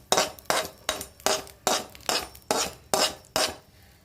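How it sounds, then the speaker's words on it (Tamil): A ladle stirs tempering into chow chow thogayal in a pot, making nine sharp, evenly spaced metallic clinks roughly every half second, close and distinct, with no talk. "ஒரு கரண்டி வச்சு கலந்து கொடுக்கணும்"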